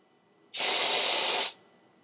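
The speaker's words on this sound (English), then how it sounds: "That has a very tight, hard jet stream, so if you need to reach with this spray, this definitely has that capability" Brake cleaner aerosol firing a tight, hard jet stream, one steady hissing burst of about a second that starts and stops abruptly, loud and close.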